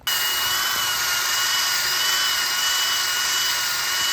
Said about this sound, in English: I've taken a wire wheel on a drill and I cleaned up these splines really well.